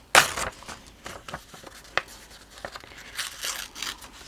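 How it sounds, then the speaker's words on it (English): Sheet music paper torn by hand in short, uneven rips, with a sharp burst at the start and scattered quieter tears and rustles after it, close and alone. "So I need to tear a piece"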